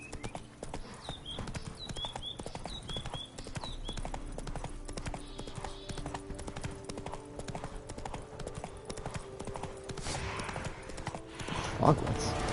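Horse hooves clip-clopping in steady rhythm as a mount gallops in The Witcher 3 game, with a voice talking over the hoofbeats and a brief whinny-like sound near the end.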